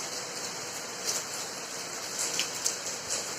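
Steady rain falls at night during a power cut, a dense even hiss with faint scattered drip taps rising now and then, close and continuous with no talking.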